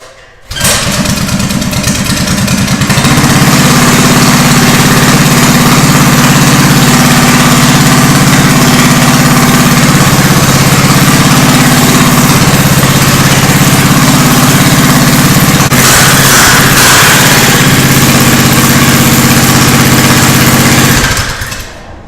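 The small engine of a Kandy Rat go-kart catches after a brief start and runs loud and steady for about twenty seconds, a continuous close buzzing drone with slight pitch shifts, then cuts off at the end.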